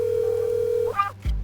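A cell phone dial tone before a 911 call: a steady tone that cuts off, followed by short electronic beeps and a low thump.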